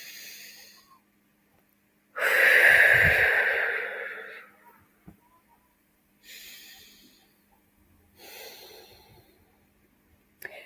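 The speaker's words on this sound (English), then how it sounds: "Deep breath." Slow, deep breaths close to the microphone: one long loud exhale followed by softer breaths at regular intervals, in an otherwise quiet room.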